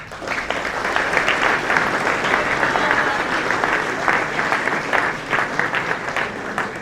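Sustained audience applause at a spring varsity sports awards ceremony for student athletes, dense even clapping from a sizeable crowd filling the whole stretch without a break.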